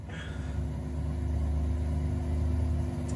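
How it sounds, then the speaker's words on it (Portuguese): A car engine rumbles with a deep, steady throb, close and fairly loud, holding a constant low drone that rises slightly as it goes. "Olha esse ronco, mano."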